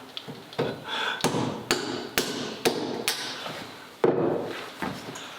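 Bamboo cane split lengthwise by hand without a vise, giving a series of sharp, close cracking knocks at an irregular pace, about eight distinct hits with woody splintering between them.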